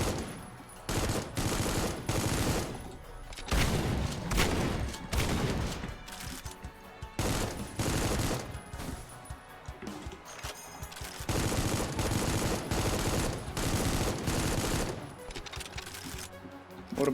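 Sustained video-game gunfire from an episode of Supplice, dense automatic bursts and volleys that run nearly nonstop for about seventeen seconds with short gaps, loud and close, with no talk over it.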